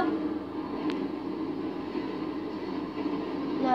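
Train in the video game GTA 1, a steady mid-level rolling rumble with one brief sharp click near the start, continuous with no talk.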